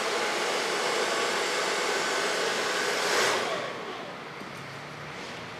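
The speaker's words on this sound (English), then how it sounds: "Blow dryer stabilize the lines," Blow dryer used to style and set hair, a loud continuous whooshing whir that surges briefly, then drops to a lower, steadier level.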